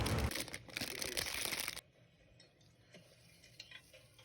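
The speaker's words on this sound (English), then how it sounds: "This is me just mixing the foam together." Pink foam being mixed into slime by hand gives a dense crinkly squelching at first, then drops to faint soft squishes and small clicks.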